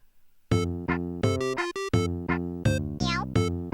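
A synthesized cat meow sound effect from Mario Paint on the SNES repeats in a bouncy tune, bright chiptune-like meows at varying pitches in a quick rhythm, played alone.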